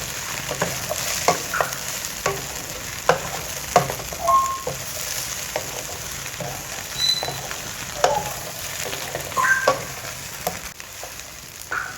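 Okra and onions fry in a pan for bhindi masala, a soft steady sizzle with scattered spoon taps and scrapes plus a few faint high beeps, close and moderately quiet, no talking.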